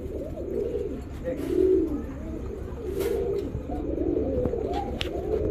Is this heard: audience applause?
no